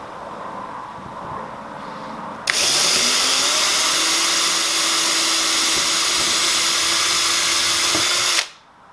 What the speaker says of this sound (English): So now I'll drill all of these pilot holes.